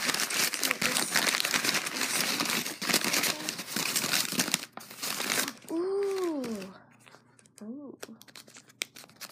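Tissue paper on a birthday present crinkles and rustles loudly up close as it is unwrapped. The noise then drops away, and a high voice is heard near the end.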